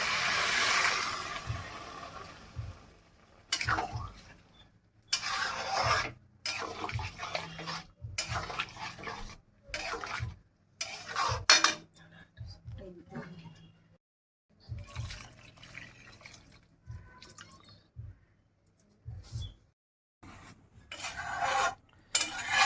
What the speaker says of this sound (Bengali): এই মুহূর্তে যে স্টকটা ছিল বেঁচে ছিল, সেই স্টকটা ঢেলে দেওয়া হচ্ছে